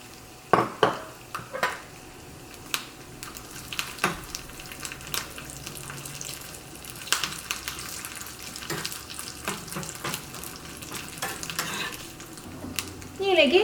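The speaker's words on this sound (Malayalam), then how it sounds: "കുറച്ച് ഈ ചൂടായ ഓയിലിലേക്ക് ഏറ്റവും ആദ്യം തേങ്ങക്കൊത്ത് ചേർക്കാം." Coconut pieces frying in hot oil for a Kerala-style beef curry, a soft steady sizzle punctuated by clinks and scrapes of a spoon stirring against the pan.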